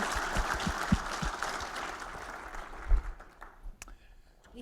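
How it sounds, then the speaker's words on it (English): Audience applause at a conference opening plenary, a dense patter of clapping with a few sharper claps near the start, fading out toward the end as the room settles. "Let's give them all a round of applause."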